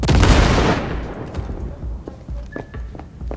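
A loud blast in Cyberpunk 2077 with a heavy, roaring onset that decays over about a second, followed by scattered thuds, clicks and debris sounds.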